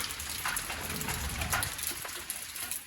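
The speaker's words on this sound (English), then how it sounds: "Yes, the rain has come down." Steady rain falls outdoors at an off-grid home garden in Jamaica, a continuous broadband hiss of drops on surfaces with no speech, holding an even level throughout.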